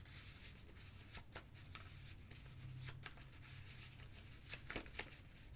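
A deck of hockey trading cards being given a quick shuffle by hand, soft riffling and rubbing with a few sharper card snaps, close and quiet, no voices.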